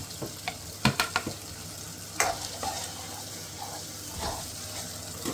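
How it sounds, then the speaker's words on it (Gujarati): Chopped tomatoes go into a hot pan with onion and are stirred. A soft, steady sizzle runs throughout, broken by a few sharp clicks and knocks of the spoon against the pan, with no speech. "ટમેટા નાખી દઈએ."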